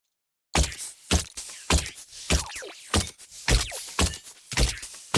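Designed robot body thumps for a game character, a series of about ten heavy, punchy metallic hits in an uneven rhythm, close and loud, each with a short clanky tail, alone with no voices.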